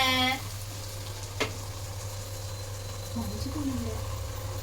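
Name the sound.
food frying in a pan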